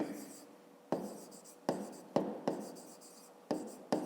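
A pen writing on paper while solving a fifth-grade maths exercise, heard as quiet scratchy strokes that come in short separate bursts with pauses between them, close but faint, and nobody talking.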